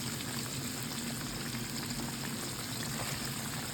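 Battered fish pieces frying in a crowded pot of hot oil, a steady dense sizzle and bubbling hiss that holds unchanged throughout.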